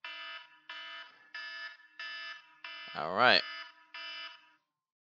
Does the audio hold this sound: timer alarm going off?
yes